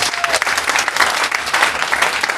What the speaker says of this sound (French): Acclamons Jésus. Clap for Jesus Christ.